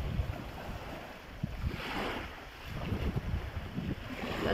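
Waves wash steadily onto Katapola beach on Amorgos, Greece, with a constant rushing roar, mixed with wind noise buffeting the microphone; no voices.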